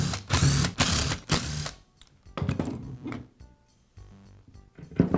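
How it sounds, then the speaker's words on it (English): Porter Cable sander gearbox being pulled apart from its motor: close mechanical clicks, rattles and scraping of metal parts in short bursts separated by near silence. "Now I'll separate the gearbox from the motor."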